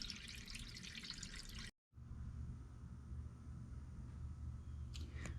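Coolant pours steadily into the radiator of a modified Honda Integra GSR, a continuous close trickle and gurgle with a brief cutout partway through and no talking.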